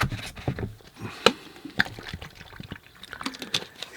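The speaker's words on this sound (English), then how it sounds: "I'll put some fresh, clean water" Fresh clean water poured into a painter's water bucket beside a watercolour palette, giving a close, uneven run of splashes, trickles and drips with no talking.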